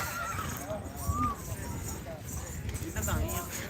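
Horse hooves clip-clop at a horse fair in Hanumangarh, with irregular hoof strikes under lively crowd chatter and people talking close by.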